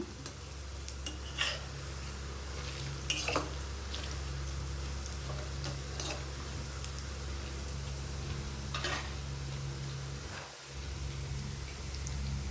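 Pakoda frying in hot oil, a steady close sizzling hiss with scattered crackles and pops throughout.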